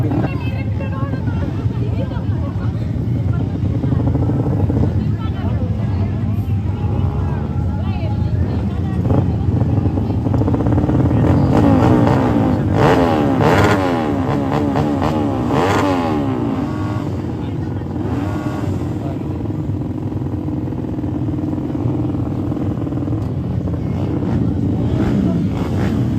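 Racing motorcycle engines drone and rev at an open road race on a former airport circuit, a steady loud roar with rising whines around the middle, under crowd babble and an announcer's voice.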